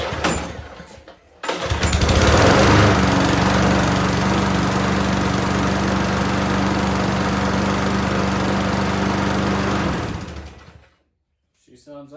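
A John Deere JS20 walk-behind lawn mower engine starts and runs at a steady, loud, close drone for about eight seconds before winding down and cutting off, with brief handling noises before it starts.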